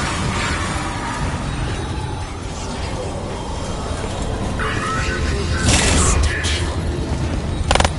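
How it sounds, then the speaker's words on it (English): Bombs drop and explode in a video game, a dense, loud barrage of booming blasts and rumbling mechanical clatter, with a sharper cluster of bursts toward the end. "Dropping bombs!"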